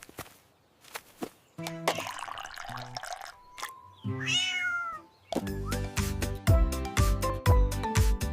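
A cat gives several meows between drips, clicks and a whooshing sound, over a cartoon-like backdrop, ending in a run of rhythmic plucked notes and taps.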